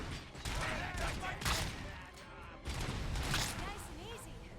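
Gunfire in the first-person shooter RoboCop: Rogue City comes in loud sharp bursts, several shots cracking near and close together, with a voice talking over the action.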